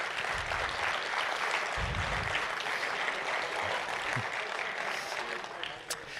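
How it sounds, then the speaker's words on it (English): A round of applause for faculty at a Lakeland College year-end crops presentation, heard as a broad, steady wash of clapping. Low murmurs and a brief voice sit beneath it. "We'll give them a round of applause as well."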